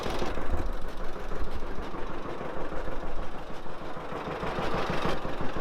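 An old tractor engine idles and runs with a steady, rough mid-low rumble and a rapid ticking pulse from an exhaust manifold leak, continuous and fairly close.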